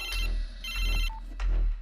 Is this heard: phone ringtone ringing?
yes